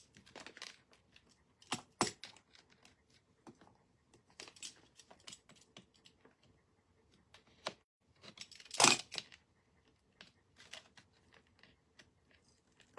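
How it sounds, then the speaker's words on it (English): A craft knife slices through chalk paper while decoupaging a silver tray, giving a handful of short, close, dry scraping cuts spread out between quiet pauses. "and now I'm using a knife"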